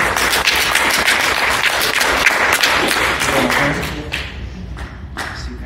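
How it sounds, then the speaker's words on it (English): Audience applause at a hypnosis demonstration, a dense steady wash of many hands clapping that thins into scattered individual claps toward the end. "Can we get a round of applause for Court?"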